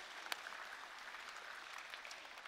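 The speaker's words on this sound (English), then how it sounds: "Let's give a round of applause, guys." Faint, steady clapping from an audience at a faith-based talk show with a choir, a soft even patter lasting a couple of seconds with no voices over it.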